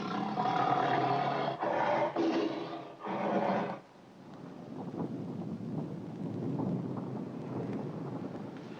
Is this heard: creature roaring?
yes